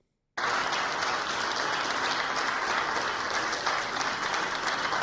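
After a brief silent moment, a crowd at Trump's address breaks into loud, continuous clapping that holds steady and dense until the end.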